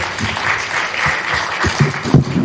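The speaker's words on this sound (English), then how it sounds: "I like they clap here." Audience clapping along to a nigun during a Rock Shabbat service, a dense crowd of hands keeping time under singing and instruments, with a few louder claps near the end.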